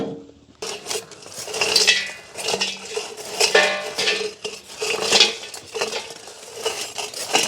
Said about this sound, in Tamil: இப்படியே நாங்கள் மூடி போட்டு தம் போடுவோம்